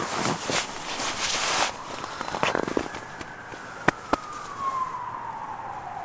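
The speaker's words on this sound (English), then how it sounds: "Had several siren things going on." In a city near a fire station, an emergency vehicle siren wails with a slow falling tone at middle distance, following a burst of street noise, with two sharp pops partway through.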